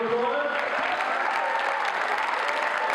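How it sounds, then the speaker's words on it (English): A hall full of people in Fall River, Massachusetts claps steadily and loudly for about three seconds, a dense, continuous wash of applause with no pauses. "Give yourself a round of applause."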